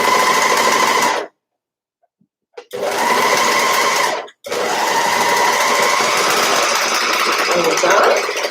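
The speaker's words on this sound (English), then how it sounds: "the overlocker's telling me it doesn't like it very much, so just go slow." An overlocker stitches slowly through a thick sweater seam, a loud, dense mechanical whir that runs in three bursts separated by two brief stops, the last stretch longest.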